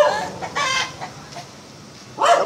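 A chicken being hand-fed gives a few short, near clucks in quick bursts, with a louder squawk at the end.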